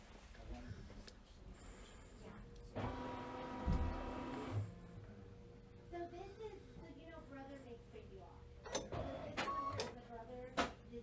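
An embroidery machine drives its hoop to hunt for snowman positioning stickers, giving a soft mechanical whir and several bursts of motor motion alongside quiet speech.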